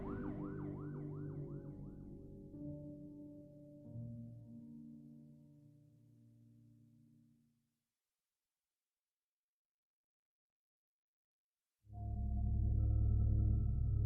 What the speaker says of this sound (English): Then the sergeant heard a siren blaring